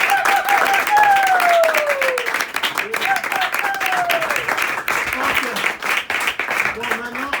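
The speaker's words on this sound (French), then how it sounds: "applaudissez votre pasteur" A church youth meeting crowd claps steadily for several seconds for their pastor, the applause dense and continuous, with voices calling out and talking over it.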